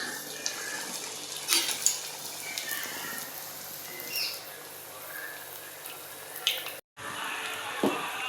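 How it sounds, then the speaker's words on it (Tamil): Egg puffs frying in hot oil, a soft continuous sizzle with a few clinks of utensils against the pan, fairly faint and steady, briefly cut off near the end. "இதே இப்போ நான் எண்ணெயில் போட போகிறேன்."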